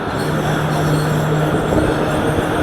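Marvi Passenger train at Dhoronaro railway station in the Thar desert, a loud, steady rumble of carriages and wheels with a brief metallic squeal, close by and continuous with no talk.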